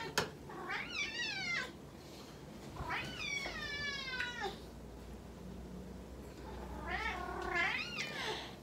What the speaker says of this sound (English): my cat, on the other hand, is meowing like no tomorrow